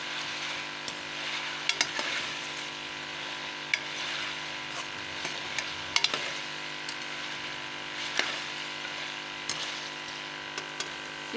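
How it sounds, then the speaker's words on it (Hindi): Chicken pieces fry in oil for a chicken karela curry, a continuous bubbling sizzle with occasional spoon clinks and stirring scrapes close by, with no voices. "चिकन अच्छी तरह फ्राई हो गया, पानी खुशक हो गया चिकन का"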